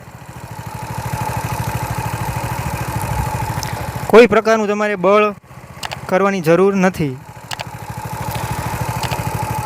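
Mini tractor (saneda), a jugaad bike-engine build with a hydraulic system, running slowly in a field; its steady low engine putter continues throughout while someone talks over it in the middle.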